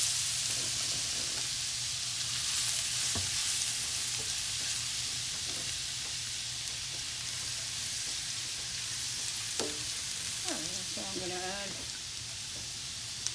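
Minced garlic added to ginger sizzles in hot oil in a pan, a steady broadband fry hiss running throughout with a few scraping stirs and brief faint speech near the end.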